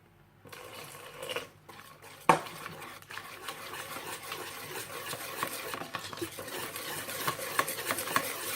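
Thick far breton batter with milk and cream is stirred in a bowl, a steady close run of rhythmic scraping and sloshing strokes with a sharp clink early on.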